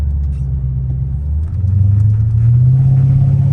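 Deep, loud exhaust rumble from a straight-piped Dodge Hellcat Redeye, heard close from inside the car, idling low and then swelling as the engine builds up slightly, with no talk.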